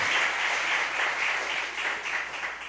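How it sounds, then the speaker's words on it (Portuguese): A church congregation claps for a pastor in a dense, steady wash of applause that holds at moderate loudness throughout. "Vamos dar uma salva de palmas para o pastor Edson"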